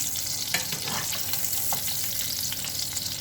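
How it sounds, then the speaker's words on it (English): Shrimp fry over medium heat in a pan used earlier for sausages, giving a close, continuous sizzle with occasional stirring taps and small spits. Nobody speaks over it. "Now we're cooking our shrimp."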